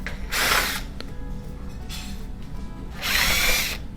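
A power drill backs screws out of the rear panel of a KitchenAid wall oven, whirring in two short close bursts separated by quieter pauses and a faint click, with no talking.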